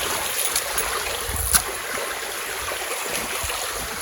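Stream flowing around a small bamboo island on a Jamaican coffee farm, a steady close rushing of water with a few faint knocks, no talking.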